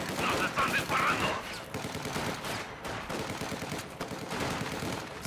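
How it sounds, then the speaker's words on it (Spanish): Rapid machine-gun bursts and scattered rifle shots from a Company of Heroes 2 multiplayer battle, loud and continuous, with shouted soldier voices over the firing. "¡Nos están disparando!"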